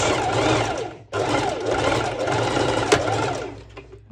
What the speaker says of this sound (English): with my normal sew machine, I'm going to secure this stitch